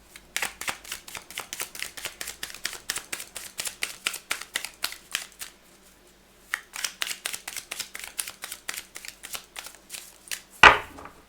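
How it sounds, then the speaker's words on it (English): Tarot cards riffled and shuffled in rapid, regular bursts, two long runs of crisp paper flutters split by a brief pause, close and fairly loud, ending in a sharp final snap. "Cards were already well shuffled in advance, but I go to the last second so that you're a witness."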